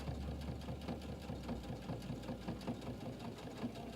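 A sewing machine stitches steadily at close range, a continuous rapid mechanical whir with regular needle thumps throughout and no talking.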